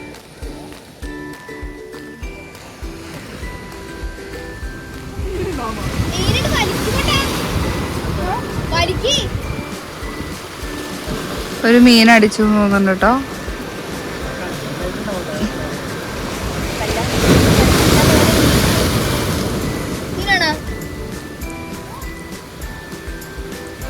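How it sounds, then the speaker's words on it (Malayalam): Sea waves surge and wash onto the shore in broad swells, loud and close with wind buffeting, while a person talks over them. "ആ സൈഡിലൊക്കെ നന്നായിട്ട് തിരയടിച്ച് കയറുന്നുണ്ട്."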